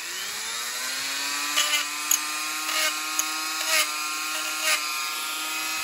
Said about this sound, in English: use the Dremel and kind of sand these down